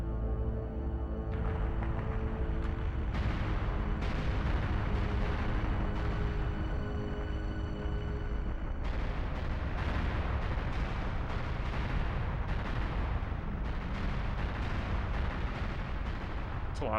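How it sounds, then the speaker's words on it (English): Explosions in the N64 game Hybrid Heaven roll on without a break, a dense, loud barrage of booming blasts and rumbling detonations layered over a continuous low roar, with music-like tones in the background. "It's a lot of exploding."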